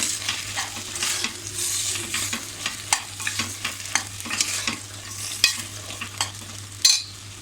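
Skin-on potato pieces are stirred and sautéed in a pan for a Malvani-style black-eyed bean and potato bhaji: close, rhythmic spatula scrapes and taps over a steady soft sizzle, with a low hum beneath.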